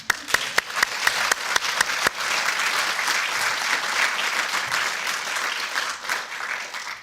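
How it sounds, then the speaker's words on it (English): A crowd at a graduation ceremony breaking into a sustained round of applause, a few sharp early claps swelling into dense, even clapping that holds steady and begins to fade at the close. "It's okay, round of applause for"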